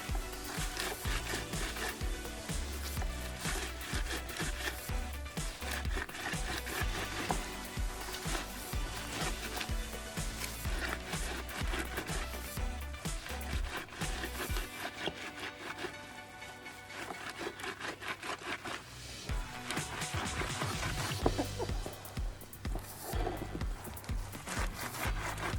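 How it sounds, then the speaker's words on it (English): Bitter leaves scrubbed by hand to wring out their bitter juice, producing dense, continuous wet rubbing and squelching up close, busy and unbroken the whole time. "as I'm scrubbing it, some of the bitter juice coming out"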